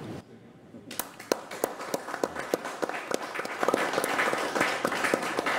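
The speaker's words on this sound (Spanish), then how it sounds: "Creo que nuestros invitados merecen un aplauso." A small studio audience on a sports talk show claps for its guests, starting with a few scattered sharp claps that quickly build into a fuller, rising round of applause.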